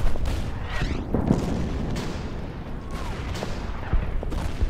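Artillery and mortar barrage in the wartime strategy game Order of Battle, set on Saipan with US Marines: several heavy booms and crackling impacts land in irregular succession, loud and rumbling.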